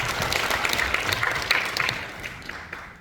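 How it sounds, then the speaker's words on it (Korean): An audience at a Gwangju city festival evaluation briefing applauds in thanks, a dense, steady patter of many hands clapping throughout, with no voices over it. "참석해주신 모든 분들께 다시 한번 감사의 박수 부탁드립니다"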